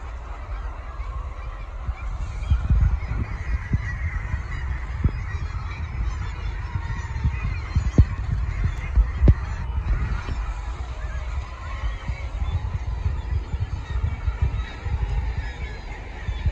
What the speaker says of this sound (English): Birds are just flying everywhere, just dive bombing, and amazing.